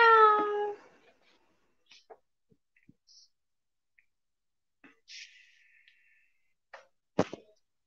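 A human voice imitates a cat's meow, one short drawn-out call at the start, followed by scattered faint clicks and taps in an otherwise quiet room.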